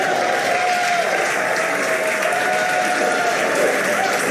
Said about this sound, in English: Crowds cheering here at SpaceX Mission Control Hawthorne as we tune in to see if we stick the landing.